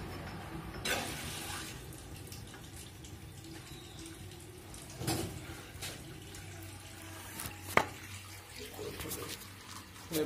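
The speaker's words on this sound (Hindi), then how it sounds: "ये पानी चालू कर दिया है" Tap water runs steadily into a toilet flush tank during repair of a broken cistern, a continuous hiss of filling water with a few clunks and knocks over it.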